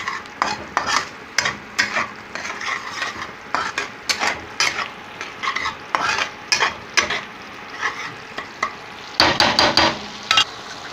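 Tomatoes with salt stirred in a frying pan for a tangra fish dish: sharp, rhythmic spoon scrapes over a low, steady sizzle, close and fairly loud, with a faster flurry of strokes near the end.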